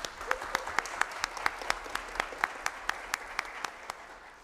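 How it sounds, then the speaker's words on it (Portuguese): A small audience at a recycling forum claps in a sparse, evenly spaced rhythm of sharp individual claps, fairly close and alone without talk. "Uma salva de palmas, né, gente?"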